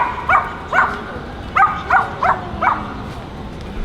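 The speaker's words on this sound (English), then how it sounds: "What does a dog say?" A dog gives a series of six or seven sharp, yappy barks in an irregular rhythm, fairly close and clear over a quiet background while walking around a neighbourhood.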